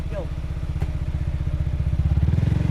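A motorcycle engine on a ride in Sekinchan chugs close and loud with a rapid, pulsing beat that quickens and grows stronger, and a voice is briefly heard at the start.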